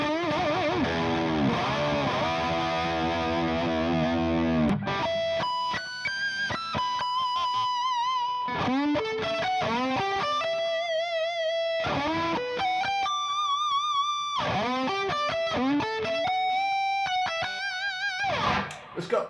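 Electric guitar played through a Wampler Dual Fusion overdrive pedal, Tom Quayle signature model, with the tone rolled back: smooth saturated sustained notes and fluid lead runs, loud and continuous without talk.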